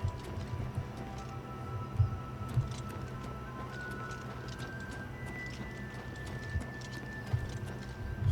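Horse hooves clip-clop in the video game Elder Scrolls IV: Oblivion Remastered, a steady walking rhythm with a few sharper hoof strikes over soft ambient tones.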